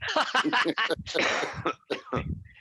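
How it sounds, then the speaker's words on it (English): A short burst of harsh, rough coughs close to the mic, several in quick succession with brief breaths between them. "excuse me, I got a little cough"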